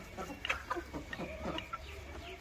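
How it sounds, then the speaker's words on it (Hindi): Chickens cluck softly in a short run of irregular calls while they feed on grain and drink water, fairly close but not loud, over a quiet background. "ये मुर्गियां भी अपना दाना वगैरह खा रही हैं और पानी पी रही हैं।"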